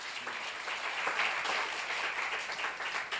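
Members of a church congregation applaud during a seminar sermon, a continuous crackle of many clapping hands at a steady level, heard from a little distance without voices on top.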